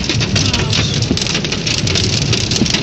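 Dense, steady roar of hail and heavy rain pelting a car during a thunderstorm in Le Mas d'Agenais, continuous and loud, with a voice faintly underneath.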